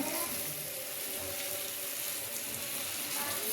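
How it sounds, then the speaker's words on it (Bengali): Taro leaves (kochu shak) go into a cooking pan, giving a steady wet hiss and sizzle that runs through the whole moment at an even, moderate level, with no talking. "এখন আমি কচু শাকটা দিয়ে দিচ্ছি"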